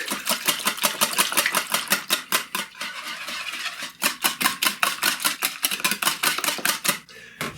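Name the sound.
whisking eggs and milk for bread pudding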